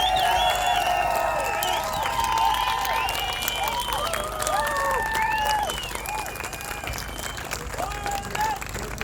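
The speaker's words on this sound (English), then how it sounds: "Give yourselves a round of applause" A rally crowd applauds steadily, dense clapping mixed with scattered cheers and whoops, sustained and loud throughout.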